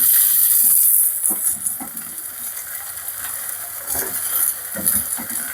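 Chopped tomatoes hitting hot oil in a pan for spicy tomato chutney, a loud steady hiss at first that settles into softer sizzling with scattered crackles and light stirring clatter.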